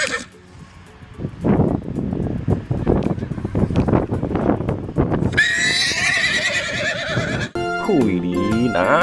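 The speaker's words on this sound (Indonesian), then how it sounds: "Wow, ternyata ada kuda." A horse in the video game Jurassic World Evolution 2 whinnies loudly in several long, wavering calls near the end, after a stretch of blustery, windy noise and hoof-like clatter.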